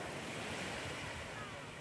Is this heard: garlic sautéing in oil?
no